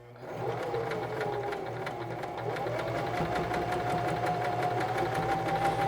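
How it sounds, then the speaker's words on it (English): A SINGER 1234 sewing machine stitches along the edge of a tote bag handle, running continuously up close with a rapid, even mechanical chatter and a rising whine as it picks up speed. "I'm going to go and stitch right along the edge of this handle all the way down."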